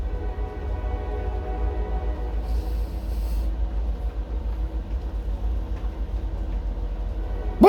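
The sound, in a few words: train passing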